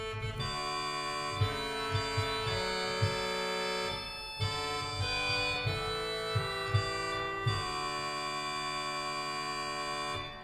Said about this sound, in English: The reed on the positif is called a crumb horn, which kind of sounds like a buzzy clarinet.